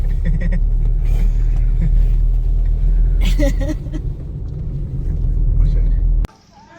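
A car from Hyderabad, on a road at Mount Abu, passes close with a loud, rumbling engine drone that holds steady, then cuts off abruptly near the end; faint voices sit under it.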